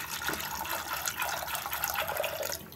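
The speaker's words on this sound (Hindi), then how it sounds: "ये देखिए इसमें पानी डाल देंगे।" Water pours steadily into a pressure cooker holding soaked peas, a continuous splashing gush that fades slightly at the end, with no talking over it.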